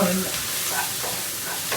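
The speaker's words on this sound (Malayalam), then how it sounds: "ശരിക്കും നീ വറുത്ത എണ്ണയിലാണ് നമ്മൾ ഈ മസാല തയ്യാറാക്കുന്നത്" Fish biryani masala frying and stirred in hot oil, a steady close sizzle with soft scraping stir strokes throughout, no voices.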